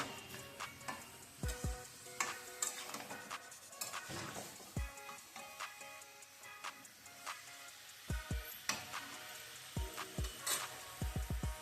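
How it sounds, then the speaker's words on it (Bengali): Chicken frying in butter in a pan for a Bengali mustard chicken, a soft, steady sizzle broken by frequent light clicks and scrapes of utensils against the pan, close and fairly quiet. "এই বাটারের মধ্যে চিকেনটা একটু ফ্রাই করতে হবে"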